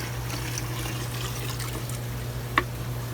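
Water containing brine shrimp, dumped from an air-lined hatching setup into a beaker, trickles in a steady soft pour beneath a constant low hum, with one brief clink near the end.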